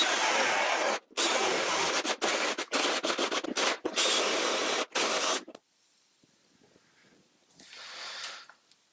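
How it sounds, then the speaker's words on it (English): A power drill bores a hole with a drill bit in a gallery light fixture, running in loud bursts with several brief stops, then falling quiet before a fainter, softer scraping sound. "we just take the drill bit, mark it or line it up with the marks,"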